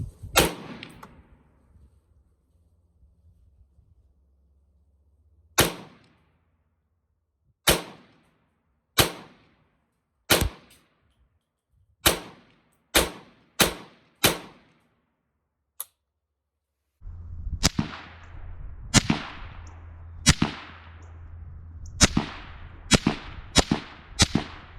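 Sharp, loud 17 HMR rifle shots firing Winchester 20 grain rounds at cabbages outdoors, about twenty cracks spaced a second or two apart, some in quicker runs, each with a short ringing tail over faint background rumble.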